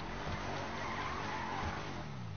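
A car in the game GTA 5 Online drives with its tires skidding and squealing over a steady engine roar, continuous and fairly loud throughout with no voices.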